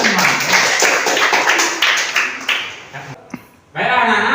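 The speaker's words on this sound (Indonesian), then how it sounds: "Tepuk tangan untuk kita semua." Children in a classroom clap together in quick, rhythmic bursts that fill the room for about three seconds, then stop as an adult teacher's voice takes over.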